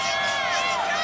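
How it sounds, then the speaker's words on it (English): Dense stadium crowd roaring at a night college football national championship between Alabama and Clemson, a steady broad wash of cheering voices throughout with faint commentary underneath. "But a great crowd tonight."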